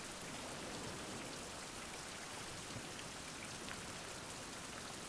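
Steady rain falling in the survival video game Survival: Fountain of Youth, a continuous even patter of drops with no voices over it.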